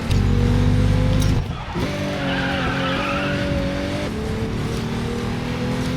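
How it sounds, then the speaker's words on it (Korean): A racing car drifts on asphalt in a video game set in a life-size recreation of Seoul, with a loud tire skid at the start, then a steady engine drone and squealing tires continuing throughout. "이거 드리프트 그냥 막 해도 되겠다"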